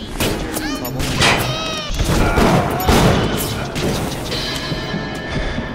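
Gunfire in the video game Bioshock crackles in booming bursts, mixed with game effects and heard under a person talking throughout.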